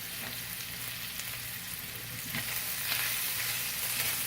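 Spinach and garnish stirred in a hot frying pan for an Italian sausage lasagna, giving a steady close sizzle with faint scraping of the stirring, growing slightly louder toward the end, with no talking.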